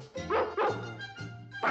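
Cartoon newborn Dalmatian puppies yipping and barking in a quick string of high, close little barks, with no speech over them.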